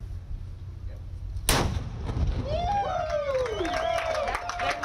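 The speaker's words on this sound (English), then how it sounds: "it all started this morning with a ceremonial cannon blast to kick off the weekend" A ceremonial cannon fires one loud, abrupt blast at the start of a fishing rodeo on Dauphin Island, its boom rolling away afterward while a distant crowd's sound and whistling tones linger.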